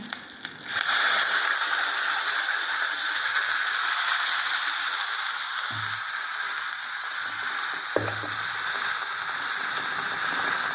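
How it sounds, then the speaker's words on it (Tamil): A ground spice paste hits a hot pan for paneer butter gravy, setting off a loud, steady sizzle and hiss that runs alone throughout, with a couple of brief knocks partway. "அரைச்சதை இதில் ஊற்றிடலாங்க"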